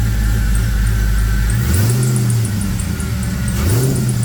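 An Oldsmobile Rocket V8 rumbles close by at a loud idle, then gets two quick revs, each rising sharply and falling back to the steady lope.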